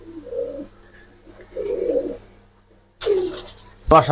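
A pair of Giribaz pigeons coo close by in short, soft, repeated bursts, followed by a brief voice near the end.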